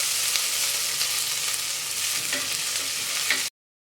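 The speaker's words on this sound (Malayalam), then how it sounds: "സവാള പെട്ടെന്നൊന്ന് വഴന്ന് കിട്ടും." Onion sautéing in a pan with a pinch of salt as the base for beetroot kurma, a steady loud close sizzle and frying crackle for about three and a half seconds before cutting to silence.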